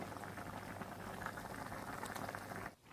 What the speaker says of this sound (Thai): ต้มต่อจนมะเขือเริ่มสุก